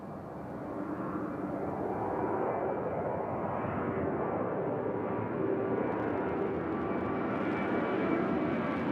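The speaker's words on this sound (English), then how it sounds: "Runway 2 left, cleared for takeoff." An airplane takes off from runway 2 left at Nashville International Airport, its engine roar swelling and holding as a broad, steady rumble heard from a distance, with no talk.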